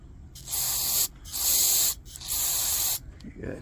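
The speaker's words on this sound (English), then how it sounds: "Let's find some carburetor cleaner." Carburetor cleaner is sprayed onto a generator in three close, loud hissing bursts of roughly a second each, with short gaps between them and a faint clink at the end.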